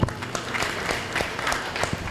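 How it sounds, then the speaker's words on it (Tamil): An audience at a Catholic worship and adoration gathering claps, a short burst of steady, mid-level applause from many hands, continuous throughout without voices. "ஜோரா கைதட்டுங்க."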